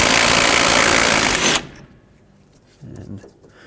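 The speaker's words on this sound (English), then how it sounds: "So take a 12mm socket and take this bolt off." A 12mm socket removing a bolt from the rear strut of a 2002-06 Toyota Camry gives a loud, dense whirring burst lasting about a second and a half, then it stops, followed by a brief low voice.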